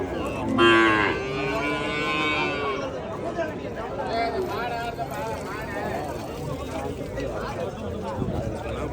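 Cattle and calves low repeatedly at a busy outdoor market in Palayam, deep moos rising over steady crowd chatter and voices talking nearby.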